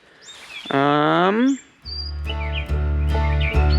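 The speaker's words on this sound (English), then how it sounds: "I'm gonna listen to these birds here for a second before the fam gets home." Birds chirp outdoors near a home, a long bright call followed by several quick tweets, fairly close and loud against a low steady background rumble.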